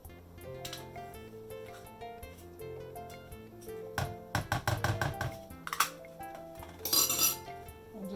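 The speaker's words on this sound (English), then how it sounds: "Give that a little stir just to incorporate those 3 ingredients." Wet ingredients for a pineapple cake being stirred in a bowl, with a run of clinks and taps of a utensil against the dish that grow busier and louder toward the end, alone without talk.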